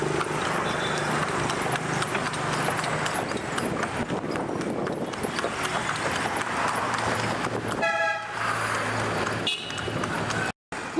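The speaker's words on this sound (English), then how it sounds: "we've just caught a horse and carriage" Horse hooves clip-clopping steadily as a heavy carriage rolls along a street in Pyin Oo Lwin, Myanmar, with a brief beeping sound and a short break near the end.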